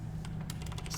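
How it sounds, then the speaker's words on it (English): Quick typing on a computer keyboard as numbers go into a calculator, a loose run of close, crisp key taps that thickens in the second half, with a steady low hum beneath and no speech. "we continue on typing our data"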